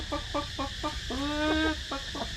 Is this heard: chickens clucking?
yes